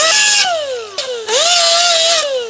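A power tool whines loudly as it cleans a weld on a 1972 Oldsmobile Cutlass part, its pitch falling and rising in a few close bursts separated by short dips.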